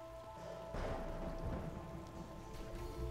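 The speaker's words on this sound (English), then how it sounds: "Rain." Rain falls steadily in the video game Typoman, a continuous hiss with a deeper rumbling surge partway through, fairly faint and alone.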